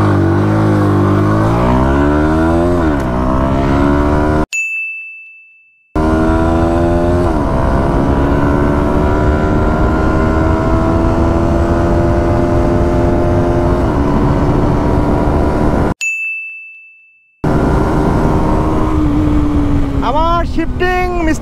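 A Pulsar NS 160 motorcycle accelerates hard on an open road toward 100, its loud, close engine whine climbing repeatedly in pitch, with brief drops between gear shifts.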